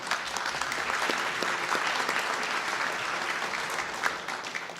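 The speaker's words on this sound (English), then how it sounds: "Let's give a big round of applause." Crowd applause at an honors ceremony at the Michigan Capitol recognizing a military service branch, a steady, full round of clapping from a large audience that continues evenly throughout without talk.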